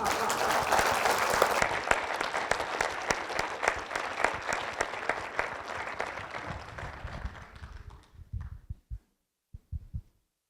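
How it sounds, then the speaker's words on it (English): An audience at an evening artist conversation gives warm, sustained applause for about eight seconds before it fades into a few final claps and soft thumps. "Can we please applaud everyone?"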